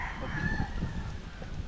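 A fighting rooster crows close by at a cockfighting-bird sale, a short loud strained call with clucking texture, heard alone.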